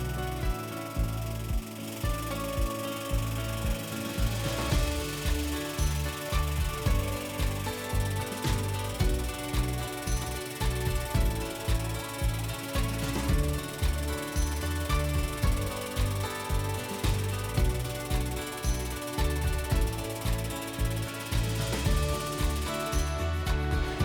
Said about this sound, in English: away we go and we press the bolt down